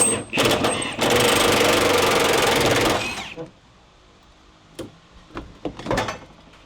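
Rear 19 mm subframe bolts on an Infiniti G35/G37 being undone with a power tool, a loud rattling burst for about two seconds, then quiet garage clanks and scattered knocks.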